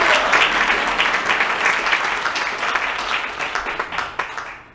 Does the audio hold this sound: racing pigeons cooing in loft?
no